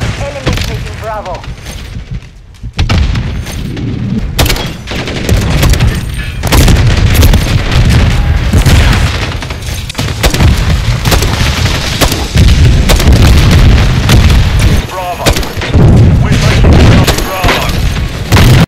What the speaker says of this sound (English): The new JAK Thumper aftermarket kit for the RGL-80.